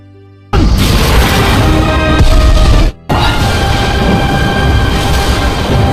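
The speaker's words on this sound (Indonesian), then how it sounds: "Dan tidak lama setelah mengeluarkan doki besar ledakan terjadi." A loud, sustained booming explosion from the animated series Battle Through the Heavens, with a roaring, crashing rumble, briefly cut off then continuing at full intensity.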